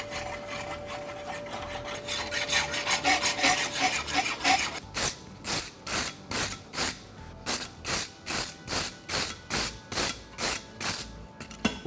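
A farrier's rasp files the inside of a horseshoe at a shoeing competition, first in quick scraping passes, then in a steady series of about a dozen even, rhythmic strokes, close and clear.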